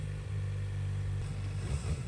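A Kawasaki ZX-4RR motorcycle engine drones and revs steadily at close range on the street, a low rumbling that swells slightly toward the end.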